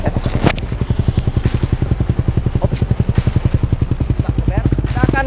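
A Honda C70 motorcycle fitted with a Satria FU150 engine and a stock CBR150 exhaust idles close by in a steady, rapid, even putter with slight crackle, while someone speaks briefly over it.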